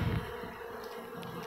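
A colony of Apis cerana honeybees in a hive box hums with a steady, dense buzz that stays close and even throughout, with no talking.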